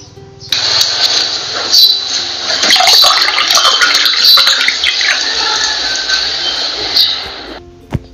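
A water sound-effect sample in a phone video editor plays as a loud, steady rushing and splashing like running or pouring water, starting abruptly and cutting off after several seconds.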